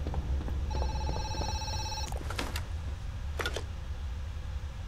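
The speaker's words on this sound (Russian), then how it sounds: "Опа, телефон." An in-game telephone rings in the horror game Zoochosis, a steady electronic trill followed by two sharper bell-like bursts over a constant low background rumble.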